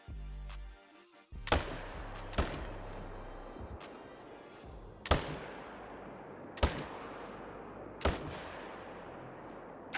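Rifle gunshots in the hunting video game theHunter: five loud, sharp cracks spaced over several seconds, each ringing out with a long fading echo, with no talking over them.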